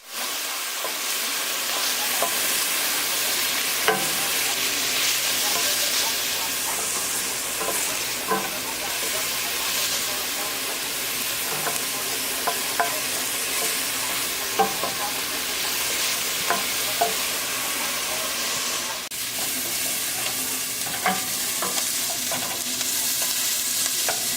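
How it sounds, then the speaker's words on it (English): Onions sautéing in a pan while being cooked until translucent, a steady close sizzle and hiss running throughout with occasional soft stirring clicks and scrapes, no talking. "for about 5 minutes until the onions are translucent"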